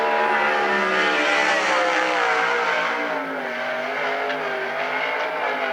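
Sprint cars from the Western Sprint Tour roar around a dirt oval at the Central Washington State Fair during qualifying, a loud, continuous high-revving engine note that holds steady throughout with shifting pitch as the car circles.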